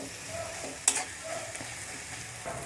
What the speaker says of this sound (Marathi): आता याला आहे ना थोडंसं फ्राय करून घेऊ.